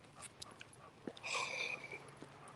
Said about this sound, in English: Neighbors are bringing dogs out.